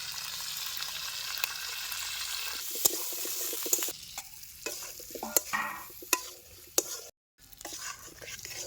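Olive pickle with turmeric, red chili powder, salt and grated jaggery is stirred in a pan, a steady sizzle broken by scraping strokes and clinks of the spoon, close and continuous with a brief dropout near the end.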